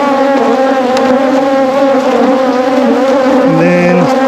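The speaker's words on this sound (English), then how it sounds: "And then I'm going to take these bees that are already going for this." Honey bees from a freshly caught swarm being moved into an Apimaye hive box, droning in a loud, continuous, dense buzz close by, with one louder bee briefly passing near the end.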